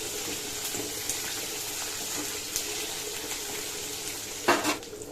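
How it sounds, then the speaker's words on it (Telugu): Ginger garlic paste, about two spoonfuls, frying in a pan for chicken biryani, giving a steady soft sizzle with faint watery crackle and a brief louder stir or clatter near the end. "రెండు స్పూన్ల అల్లం వెల్లుల్లి పేస్ట్ వేసుకొని ఫ్రై చేయాలి"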